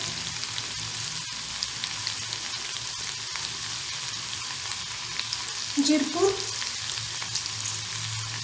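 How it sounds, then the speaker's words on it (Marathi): Lady's fingers fry in a pan over a low flame, a soft steady sizzle under a short spoken word, with a brief burst of stirring and scraping partway through. "आता भेंडी मंद आचेवर कडक होईपर्यंत शिजवून घ्यायची"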